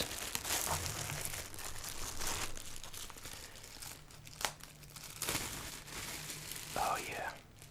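Plastic bags wrapped around a takeout pad thai container crinkle and rustle close up in an ASMR Chinese food setting, with soft scattered crackles and a couple of sharper crunches, faint whispering underneath.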